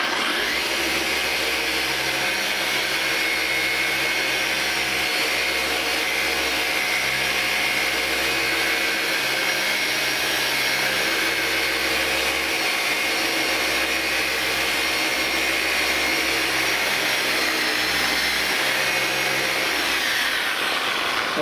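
A power sander whines loudly and steadily while its pad is primed during wet sanding of a polyurethane plastic rigid fascia, a continuous close-up motor drone with no voices.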